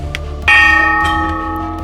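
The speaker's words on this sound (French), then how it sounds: "de faire résonner cette cloche une dernière fois dans la salle des marchés" A bell in a trading room at a student finance competition is struck once, loudly and close by, after a couple of faint taps, and its bright metallic ring decays slowly.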